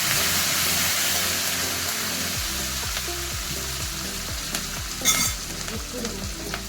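Curry leaves crackle and sizzle in hot oil for a South Indian tempering, a steady loud hiss with a run of rhythmic spatula scrapes and stirs in the second half.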